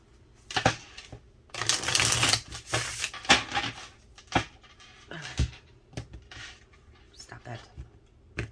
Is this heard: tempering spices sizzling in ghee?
no